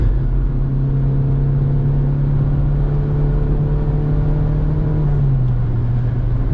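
A Fiat Siena car engine revving under acceleration as it downshifts to fourth gear, a loud steady droning hum heard from inside that holds pitch and then drops slightly near the end.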